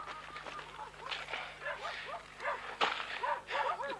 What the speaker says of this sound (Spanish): los perros que están ladrando desde cercanías de la ruta